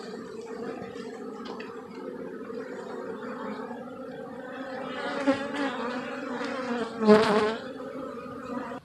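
A colony of honeybees in a weakened, low-population hive hums steadily and close by during an inspection. The drone is continuous, with individual bees buzzing louder as they pass near, and no one speaks.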